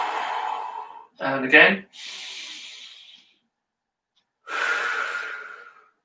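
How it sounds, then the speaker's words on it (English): Deep breathing during a children's mindfulness exercise, with long airy inhales and exhales separated by pauses and a short spoken cue between breaths. "we are going to do some deep breaths"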